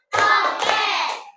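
In a classroom ice-breaking clapping game, a single quick burst of hand claps rings out close and fairly loud, lasting just over a second, with no talk over it.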